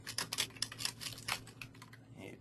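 Fingers type on a computer keyboard, a quick irregular burst of crisp clicking keystrokes close to the microphone, with short pauses between clusters and no talking.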